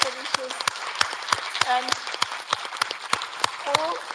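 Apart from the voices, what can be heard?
applause for the panelists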